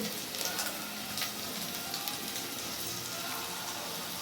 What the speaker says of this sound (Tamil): இஞ்சி பூண்டு பேஸ்ட் நல்லா வதங்கினோடனே தக்காளி போடணும்